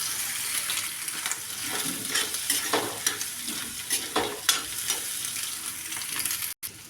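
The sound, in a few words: stir-frying cabbage and bell pepper in a pan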